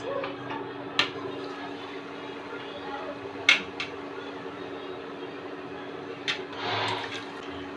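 Bread pakoda slices dipped in gram flour batter deep-fry in hot oil with a steady, close sizzling hiss, broken by a few sharp clicks and splutters.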